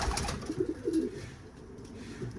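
Pigeons cooing in a loft during bathing time, low rounded coos repeating in short phrases close by over a steady background hum, no voices.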